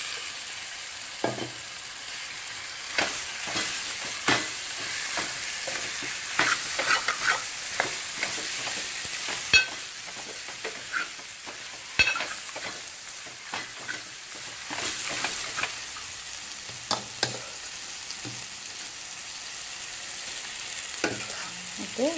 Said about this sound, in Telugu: చికెన్ వేసి ఒకసారి కలిపిన తర్వాత మూత పెట్టి సిమ్ మీద ఒక 10 నిమిషాలు ఉంచాలి